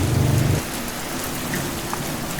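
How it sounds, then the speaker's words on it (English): Steady rain hisses in a radio drama sound effect, a constant wash of falling drops, with a low rumble in the first half second that then gives way to the rain alone. "The rain slowed to a whisper."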